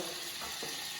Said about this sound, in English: You can hear the butter start to go.